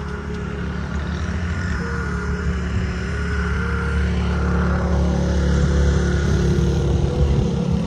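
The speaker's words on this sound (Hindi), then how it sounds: "पीछे शोर है, काफ़ी गाड़ियां गुजर रही हैं।" Vehicles pass along a road on a hilltop near a village in Jhelum district, a continuous low engine rumble with a droning tone that swells slightly as traffic goes by, steady and fairly loud, without talk.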